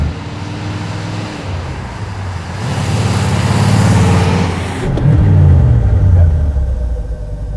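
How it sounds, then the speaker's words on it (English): A Bricklin gullwing car with an AMC engine roars steadily while driving, a loud, low, rumbling drone that builds and swells toward the middle and end, with no voices over it. "except for the roar of the engine, which is kind of cool"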